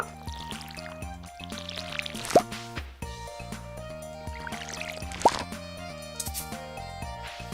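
Watering can sprinkling crops in the Stardew Valley farming game, soft splashing and dripping bursts, two louder splashes standing out over steady background music.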